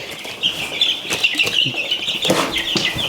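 Chicks from a homestead flock clucking and cheeping in a steady busy chorus, close and fairly loud, with a few wing flaps and scuffles mixed in and no talking.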